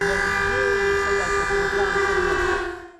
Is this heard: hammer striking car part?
no